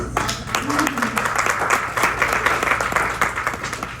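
Audience applause at a Southern Nevada water resource update meeting, a steady wash of clapping sustained for several seconds with speech mixed in underneath.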